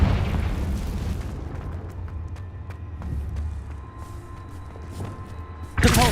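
Confringo fire spell blast in the video game Hogwarts Legacy, a loud booming burst at the start that rolls into a long rumbling decay, followed by a second sharp blast at the very end.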